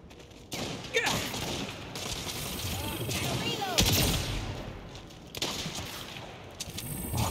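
Rapid gunfire erupts in the Saints Row video game, with sharp repeated shots from a sniper-like weapon crackling over a dense, noisy battle backdrop that continues throughout.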